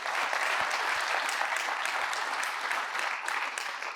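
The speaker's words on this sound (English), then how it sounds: "So if we can give them a huge round of applause." Sustained applause from a conference keynote audience fills the room, dense steady clapping at full volume throughout, with no voices over it.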